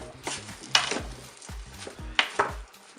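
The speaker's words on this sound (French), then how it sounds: "Je vais bien mélanger" A spoon stirs tomatoes and rice in a Cookeo multicooker pot, with several distinct scraping, knocking strokes against the pot in an irregular rhythm, close and moderately loud, without talking.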